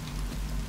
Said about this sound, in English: There's lots of rain in this place.